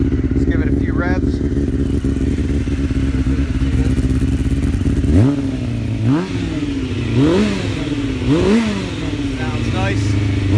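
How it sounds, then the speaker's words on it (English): A 1998 Honda CBR F3 600cc sport bike idles, then its engine is revved four times in quick rising-and-falling blips, loud and close, with a voice speaking briefly early on. "Let's give it a few revs."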